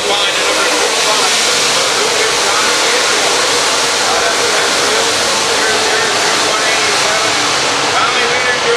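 Race cars roar steadily around a dirt track at a night USMTS event, a dense, continuous engine drone with no breaks and no talk over it.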